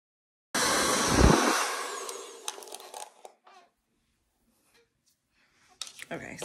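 A loud, steady blow dryer roars for about two seconds on thick hair, then cuts off, followed by brief clicks and rustling; it starts again faintly at the end.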